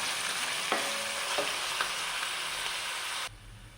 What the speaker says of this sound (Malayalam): ഇതെല്ലാം ഒന്ന് വഴറ്റിയെടുക്കാം.